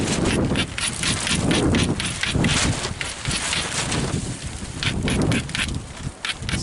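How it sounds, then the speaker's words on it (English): Steady wind buffeting outdoors, a loud continuous rushing roar with gusty swells and rumble against the microphone, no talking. "It's a little windy here."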